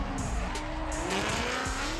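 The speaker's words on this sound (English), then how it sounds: "it was a great atmosphere to see some up-close drifting action" Tires squeal loudly as a Toyota Tacoma drift truck drifts at FuelFest 2023, a sustained high screech over the roaring engine, close and intense.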